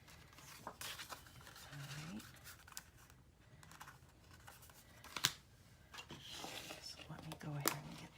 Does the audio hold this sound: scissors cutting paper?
yes